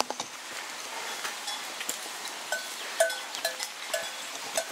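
Faint, scattered metallic clanks of cowbells on a herd of cows ring out at a distance on a Central Balkan mountain trail, irregular and sparse over a quiet outdoor background.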